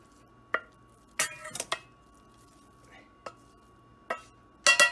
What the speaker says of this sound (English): keep mixing until a good dough is formed